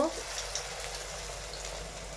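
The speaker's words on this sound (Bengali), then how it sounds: "এক এক করে আমরা কুমড়িটা ছেড়ে দিচ্ছি তেলের ভিতর" Kumri, pumpkin fritters, dropped into hot oil in a wok, giving a soft, even bubbling hiss that stays fairly quiet throughout with no talk.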